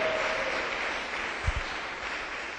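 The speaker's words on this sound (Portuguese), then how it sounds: "dá uma salva de palmas para Jesus aí, Cenáculo" Church congregation clapping in a brief, diffuse burst of applause, with a couple of low thumps partway through.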